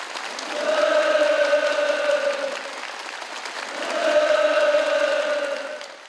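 Enthusiastic applause from an assembled crowd at a gift ceremony, two sustained waves of clapping rising and easing, with no speech over it.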